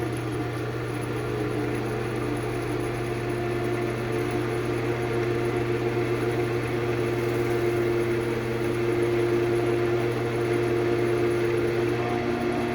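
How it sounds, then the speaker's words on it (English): A wood lathe running at raised speed gives a steady, continuous mechanical hum with a strong low tone, constant and close throughout, with no talking. "Just speed up the lathe a little more."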